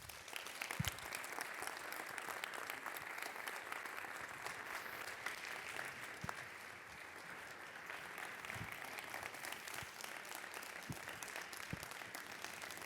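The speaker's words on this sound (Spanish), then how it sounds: "Pido un gran aplauso de bienvenida al doctor José Sarucán." At a festival opening, an audience in a full hall applauds to welcome a doctor to the stage with a steady, sustained wash of clapping that is dense but somewhat distant and holds evenly throughout.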